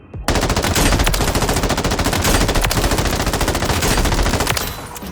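An M13 rifle fitted with a CASUS brake fires in a video game, a loud, rapid sustained automatic burst of shots lasting several seconds before stopping.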